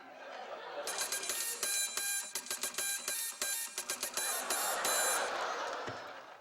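A hand crank turned steadily in an old comedy scene aboard a ship, a rapid grinding ratchety clatter with brisk rhythmic clicks running for several seconds over a wash of background noise and faint laughter.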